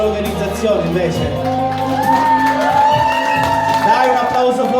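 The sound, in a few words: crowd applause and cheering for the organization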